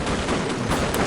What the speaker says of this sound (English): I have to stop firing.